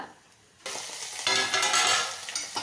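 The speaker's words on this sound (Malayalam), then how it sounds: "വറവിടാൻ വേണ്ടി കടുക്, ഉലുവ, ഉണക്കമുളക്, കറിവേപ്പില" Mustard seeds, fenugreek, dried chillies and curry leaves hit hot oil for a sambar tempering, a sudden loud sizzle that swells and crackles steadily, close and with no talking.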